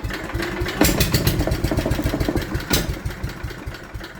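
An Allis Chalmers B10 tractor engine turns over and catches, then idles in loud, rhythmic close-up chugs that pulse steadily.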